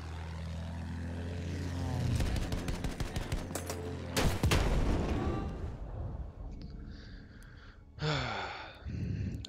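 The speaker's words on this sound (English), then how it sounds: "I got a fucking plane on me." Propeller aircraft roaring overhead in a video game, a loud sustained drone mixed with bursts of gunfire, then fading into scattered distant sounds and another short burst near the end.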